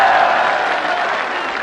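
Rally crowd at a political jalsa in Mianwali breaking into applause, a loud, dense roar of many hands clapping across an open-air gathering, steady and slightly fading over its short span.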